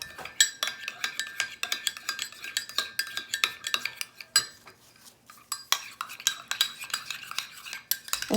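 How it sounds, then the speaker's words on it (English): Spoon scraping and clinking against a bowl while mixing Mexican street corn salad with mayo, close up, with irregular repeated stirring strokes and soft wet scrapes, no talking. "And just mix it up."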